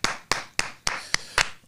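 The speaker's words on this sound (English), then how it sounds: "Clap it up for Rob Markman." Six sharp, evenly spaced hand claps from one nearby person, slowing slightly toward the end, given for Rob Markman on a hip-hop show.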